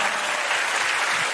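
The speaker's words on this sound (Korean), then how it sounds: "많은 사람들이 우리 JD1의 랩을 듣고 박수와 함성 소리로 이렇게 답을 하는 모습이" An audience applauds after a rap performance, a dense, even wash of clapping that stays loud and steady for a moment without distinct voices.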